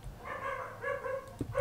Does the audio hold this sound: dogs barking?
yes